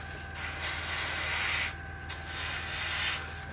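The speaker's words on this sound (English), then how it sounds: "Just spray them up" Steady hissing of paint being sprayed onto 1/48 scale Airfix P-51D Mustang model aircraft doors, close and continuous, with two short pauses in the spray.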